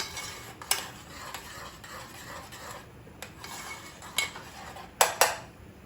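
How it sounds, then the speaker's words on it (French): Homemade tomato pizza sauce with oregano being stirred in a pot, a steady soft scraping and swishing with a few sharper clinks of the utensil against the pot, close and fairly quiet, no talking. "On commence à mélanger. On continue de mélanger."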